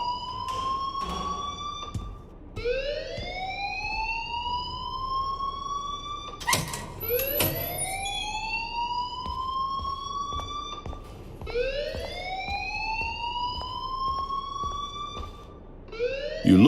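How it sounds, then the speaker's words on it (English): A wailing alarm sounds on a school campus in Life Is Strange, rising in repeated long sweeping cycles. It is loud and continuous and runs for well over ten seconds, with brief sharp clatters in between. "please turn off that alarm since that's your job"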